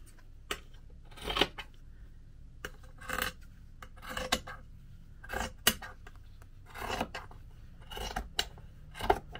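Scissors snip through fabric for a handmade journal cover in a quiet room, giving a handful of short, crisp cuts spaced irregularly with brief pauses between them.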